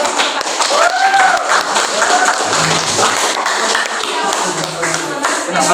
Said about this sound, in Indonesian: Coba beri tepuk tangan kepada